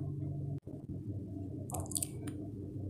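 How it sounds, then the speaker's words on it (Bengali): A tea saucepan is being scrubbed with soapy water, making soft, close squishing and dripping sounds at a low level over a faint background hum. "চায়ের সসপ্যানটা আমি ভালো করে ধুয়ে নিচ্ছি"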